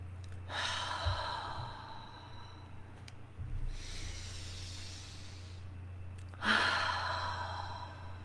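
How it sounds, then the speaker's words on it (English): A person breathes deeply during a pause, taking three long, audible breaths, each a loud airy inhale or sigh spaced a few seconds apart, with a low steady hum beneath and no talking. "Stop every once in a while just to breathe."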